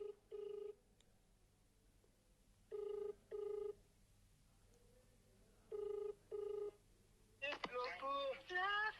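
Ringback tone of an outgoing telephone call on loudspeaker, heard as three paired bursts of ringing spaced evenly apart, followed by a voice answering at the end.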